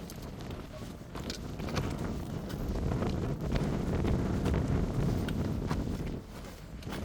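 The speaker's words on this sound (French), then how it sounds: "Il y a du vent de fou." Strong gusty wind buffeting the microphone in a constant loud rumble, swelling and easing throughout with no clear voices.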